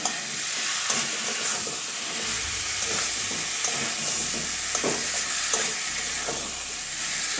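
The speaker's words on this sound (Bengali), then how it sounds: "ধুয়ে রাখা কুমড়োটা দিয়ে দিচ্ছি মশলার সঙ্গে এটা কষিয়ে নেবো কুমড়োটা ভালো করে" Pumpkin frying with spices in a hot pan gives a steady, close sizzle throughout, with faint scrapes and knocks from stirring under the hiss.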